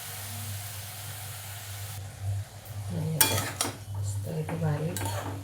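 Mixed leafy vegetables are stir-fried in a pan, with a faint sizzle under a low hum, then louder scraping and clinking of a spatula against the pan toward the end, close by.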